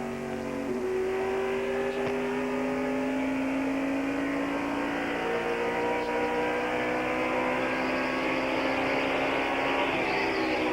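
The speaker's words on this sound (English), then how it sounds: "We're inside Ricky Rudd's Quaker State Buick." Ricky Rudd's Quaker State Buick NASCAR race car at Phoenix in 1989, heard from inside the car: a steady, loud, droning V8 roar that rises slowly in pitch as the engine pulls down the track, with no voices.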